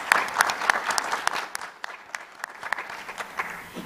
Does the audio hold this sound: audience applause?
yes